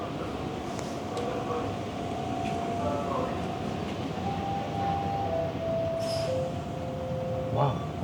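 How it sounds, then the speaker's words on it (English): A subway train pulls out of Kennedy Station with a steady rumble and rising, sliding motor whines, moderately loud and close, ending in a brief sharp squeal. "Wow, that train's out of here."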